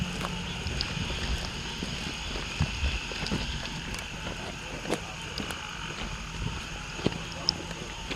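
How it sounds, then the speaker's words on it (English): A dense chorus of frogs croaks continuously around an abandoned hospital during a hurricane, with scattered clicks and light wind noise over a steady background. "Do you hear all those frogs, dude?"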